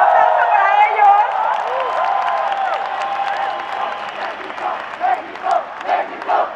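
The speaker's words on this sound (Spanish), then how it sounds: "¡Un aplauso para ellos!" A large festival crowd at Ultra Mexico 2017 cheers and applauds for the musicians, a broad roar of voices and clapping with shouted chanting swells rising toward the end.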